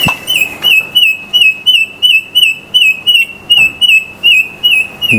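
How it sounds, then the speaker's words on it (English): A very loud bird repeats a sharp, whistled call about a dozen times in a steady rhythm, close by in a greenhouse, with nothing else to hear between the calls. "Very loud bird"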